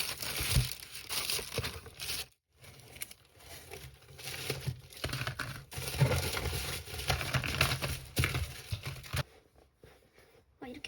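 Packaging on a winter K-pop album being opened up close, with crinkling plastic and tearing paper in irregular bursts separated by short quiet pauses.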